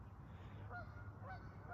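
Geese honking outdoors after rain, a few faint honks spaced through a quiet, low ambient hum, distant and soft with no talking.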